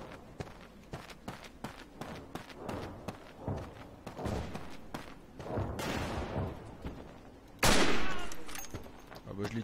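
Gunfire in a first-person shooter video game: rapid bursts of shots and footsteps crackle in quick succession, building to a loud blast near the end, with a voice talking intermittently over the action.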